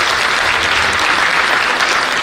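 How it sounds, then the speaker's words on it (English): Sustained applause from a crowd at a youth basketball championship for fifth to seventh graders, a steady dense wash of clapping that continues evenly throughout without any talk over it. "So can we give a round of applause for Ron Cobb?"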